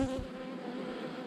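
Honeybees buzz around an open hive box during an April inspection, a steady dense insect drone filling the short stretch without pause.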